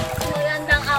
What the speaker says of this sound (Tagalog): Nalakas na ng alon.